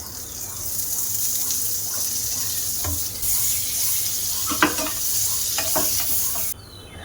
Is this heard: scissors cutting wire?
no